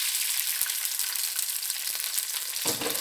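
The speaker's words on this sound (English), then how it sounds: "So we're going to give this a go now and put our rice into our frying pan." Steady hiss of rice frying in hot oil in a frying pan, with a few faint clicks of a utensil against the pan.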